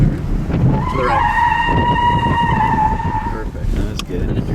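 A car sliding downhill on a driving course lets out a sustained tire squeal over engine noise. It holds steady for a couple of seconds and fades, with an instructor talking nearby.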